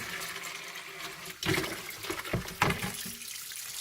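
Water runs from a tap into a container for rust electrolysis, a continuous splashing rush that changes in tone as the container fills, close and moderately loud.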